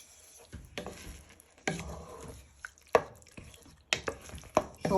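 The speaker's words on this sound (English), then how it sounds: "So all your chopped tomatoes can stir in to your vegetables." Chopped tomatoes being stirred into vegetables in a pan for Spanish chicken, with wet squelching scrapes and soft taps of the spoon at an irregular pace, close and fairly quiet, no talk.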